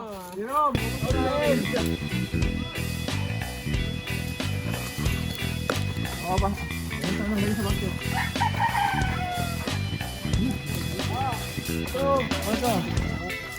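Chickens cluck and a rooster crows again and again at a chicken coop outdoors, the calls loud and close, heard under and between steady talking voices.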